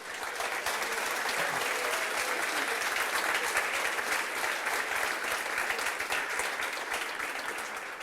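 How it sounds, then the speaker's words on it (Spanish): Sustained applause from a church congregation honoring the women at a Dorcas spiritual retreat, a steady dense clatter of many hands clapping at a constant level throughout, with no voices over it. "Yo las aplaudo porque son una bendición para la iglesia."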